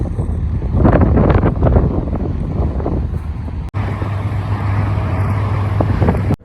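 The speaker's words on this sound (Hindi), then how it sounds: "ये ट्रीज़ में आके हवा चल रही होती है थोड़ी थोड़ी" Wind blows through trees in a steady, loud, rushing roar that swells and dips a little but never stops, with a brief dropout partway through; nobody speaks.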